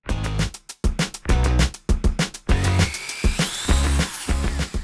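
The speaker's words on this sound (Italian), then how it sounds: "Adesso non rimane che fare un foro sul fondo delle nostre fioriere con il trapano" A power drill bores a hole through the wooden bottom of a planter, its motor whining loudly in repeated close bursts, with the bit grinding through wood and no talking.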